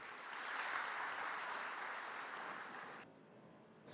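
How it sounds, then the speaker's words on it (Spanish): A conference audience at a 2020 tax-update seminar applauds to welcome a speaker, with steady, dense clapping across the room that fades out sharply near the end. "Recibamos con un aplauso al doctor Marco Aurelio Rodríguez García"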